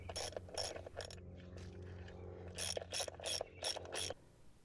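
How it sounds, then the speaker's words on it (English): A ratchet wrench drives lag bolts into a basement wall in quick bursts of sharp clicking, with a short pause between runs, close and fairly quiet. "I drive all the lag bolts until they engage with the basement wall."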